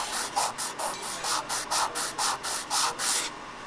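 A sanding tool rubs the glue joints of cast plaster bay-window parts for a Vampisol Tillyschanze model kit in about a dozen short, even strokes, close and crisp. The strokes stop abruptly near the end.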